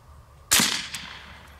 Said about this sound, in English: first let's just shoot once and figure out where we should aim